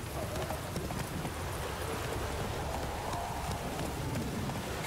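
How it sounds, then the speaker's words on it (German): A horse trots in The Witcher 3, its quick hoofbeats blurred under a dense, steady wash of rain-like or rushing ambience that stays loud throughout. "Dann brauche ich mein Pferdchen."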